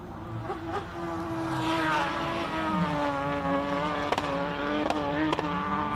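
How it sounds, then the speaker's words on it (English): A race car at a hillclimb climbs in a rising, buzzing engine whine heard from a distance, stuttering with sharp cracks and pops toward the end as it misfires. "I thought it might have been the rev limit, but I think you're right, it's a misfire."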